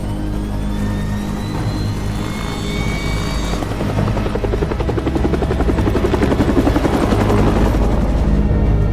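A helicopter flies overhead in an action movie, its rotor thudding in a steady, loud, continuous drone that builds slightly toward the end, with no talk.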